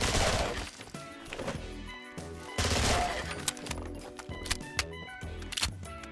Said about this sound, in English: It shreds anything in its path with high fire rate and insane damage